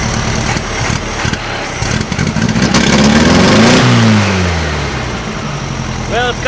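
A 1956 VW Beetle engine with carburetor trouble and a 009 distributor revs up, climbing in pitch to a peak and then falling back, loud and close, with a voice briefly audible near the end.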